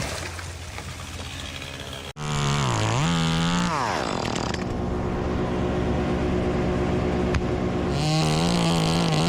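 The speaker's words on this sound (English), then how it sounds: "Gripping the chainsaw tightly, each cut is swift, sharp, and precise." A chainsaw cuts through tree branches high in a tree, its engine roaring loud and close, cutting out for a split second, then revving back up with rising and falling pitch before settling into a steady, strained whine.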